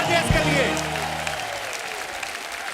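A comedy talk-show studio audience claps for radio jockey guests, a short burst of dense applause beneath a voice and music at the start.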